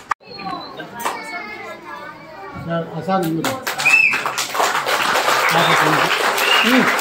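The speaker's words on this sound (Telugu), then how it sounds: "మరి అటువంటి లక్షణాలు ఉన్నటువంటి అన్నకు ఒక్కసారి చప్పట్లు." Schoolchildren in a classroom break into clapping after an adult speaks, the applause building from scattered claps into a loud, dense, continuous round that carries on to the end, with children's voices mixed in.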